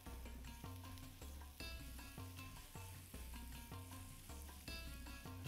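Onions fry in a pan with a continuous crackling sizzle, punctuated by repeated spoon scrapes and taps as they are stirred, heard close and without talk.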